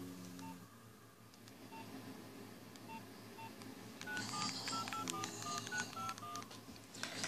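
A telephone number is keyed in as a string of distinct touch-tone beeps, faint at first and then a quicker, louder run of tones over a low background hum.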